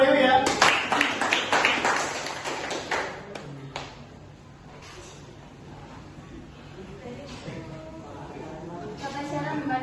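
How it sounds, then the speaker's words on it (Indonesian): A classroom of students clap their hands in a quick burst for a classmate, loud at first and then fading into scattered taps and murmured voices. "Tepuk tangan Pak Dewi ya."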